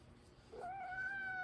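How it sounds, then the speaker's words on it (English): A house cat meows once just after jumping onto a table, one drawn-out, rising and falling cry close by over a quiet room. "my cat just jumped on the table"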